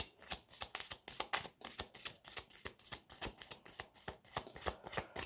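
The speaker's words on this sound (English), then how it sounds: "One more shuffle and then I'll draw the cards." Tarot cards being shuffled by hand, a quick run of crisp, evenly spaced riffling bursts, close and fairly quiet, with no talking.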